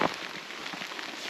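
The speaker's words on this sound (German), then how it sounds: "Es regnet." Rain falls steadily outdoors on a trekking route near Le Donon in France, a faint, even patter and hiss with no voices.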